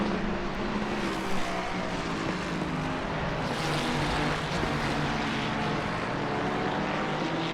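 Race car engine noise from an eight-hour endurance sim race at Suzuka, a steady, loud, dense roar with a sustained low drone and broad high hiss. No break and no talk over it.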